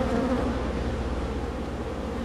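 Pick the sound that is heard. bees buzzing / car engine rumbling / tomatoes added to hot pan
bees buzzing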